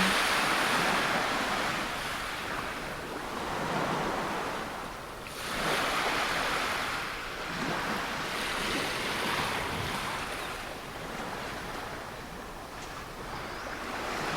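Sea waves off Sydney, Australia roll in as a steady, fairly loud surf wash with periodic swells and some wind noise, no voices.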